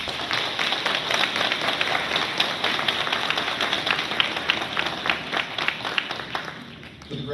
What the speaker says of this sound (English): give your family and friends a round of applause for their support and encouragement